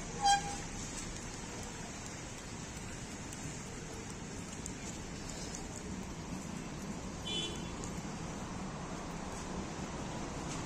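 Light rain that has fallen steadily for days, a faint, even hiss of drizzle on surfaces outdoors, with a soft background hum of distant traffic and a brief sharp tone at the very start.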